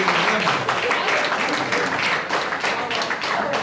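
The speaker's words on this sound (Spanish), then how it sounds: "un muy fuerte aplauso para Víctor, que organizó todo esto." A crowd claps loudly and continuously, a dense wash of applause that fills the whole moment.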